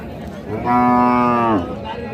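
A Sahiwal cow with her heifer calf nearby lets out a single loud, drawn-out moo lasting about a second, close and clear over low background noise.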